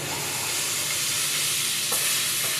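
Bacon sizzles steadily in a hot pan on a high-output burner, cooked for kielbasa rice, a constant loud frying hiss with a couple of brief clicks near the end.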